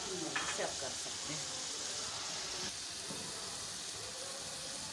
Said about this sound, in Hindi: अभी मैं इसको अच्छे से भून लूँ मसाले को